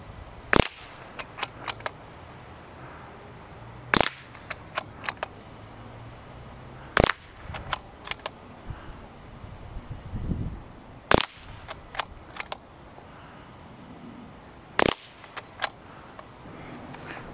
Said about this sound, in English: He's going to shoot the top spot, I'm going to shoot the bottom spot.